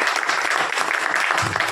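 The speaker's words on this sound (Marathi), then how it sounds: "आपण या क्लबसाठी जोरदार टाळ्या वाजूया" An audience at a Lions Club of Lonavala Legends bus-shelter inauguration breaks into steady, dense applause that holds evenly throughout, with no voices over it.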